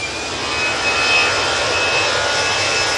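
A KLM jet airliner departs Manchester Airport, heard as a steady, broad roar of jet engines that holds at a constant level throughout, with a faint high whine riding over it and no voices.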